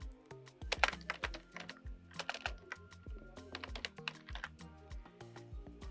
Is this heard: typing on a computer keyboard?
yes